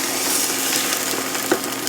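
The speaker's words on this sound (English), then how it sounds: "That is a nice sizzle right there." Chicken sizzles in hot olive oil in a pan, giving a dense, steady hiss that stays loud and close throughout with a couple of faint pops and no voices.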